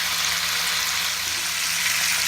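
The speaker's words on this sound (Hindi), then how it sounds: "तो यहाँ मैं चिकन को अच्छे से फ्राई कर लूँगा ऑयल के अंदर तकरीबन 2 से 3 मिनट के लिए" Chicken pieces frying in hot oil in a karahi, a steady, dense sizzle that stays loud and even throughout with no pauses.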